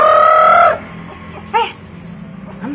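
Chickens and a rooster at a farmyard feeding, a loud drawn-out crow at first, then short close clucks and a brief squawk, with no talk.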